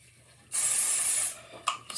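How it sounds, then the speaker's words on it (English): An aerosol spray can is sprayed onto the back of a paper stencil for card-making, a steady close hiss of about a second followed by two short bursts. "Spraying that back of the stencil with"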